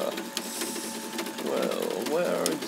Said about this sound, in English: sound changes of the stepper motor of the extruder